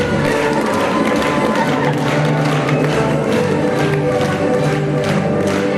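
A theater audience at a spring ballet festival gives dancers a standing ovation, a dense, steady roar of applause filling the hall throughout, loud and unbroken, with music faintly underneath.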